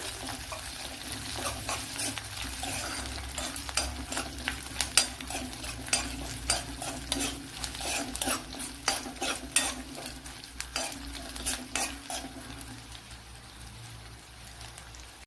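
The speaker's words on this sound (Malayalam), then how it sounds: "ചെറിയ ജീരകമാണ് ചേർത്ത് കൊടുക്കുക. ഇതിനെ നല്ലപോലെ ഒന്ന് മൂപ്പിച്ചെടുക്കണം." Cumin seeds fry in a hot pan for egg perattu, a continuous close sizzle broken by frequent scraping stirs, with no talking.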